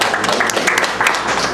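Attendees at a housing partnership meeting applaud a new commissioner, a brief burst of dense, close clapping filling the room.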